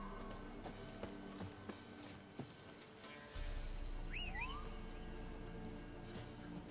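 Faint hoofbeats of a horse in The Witcher video game clop softly under a low ambient hum, followed by a rising, whistle-like call partway through.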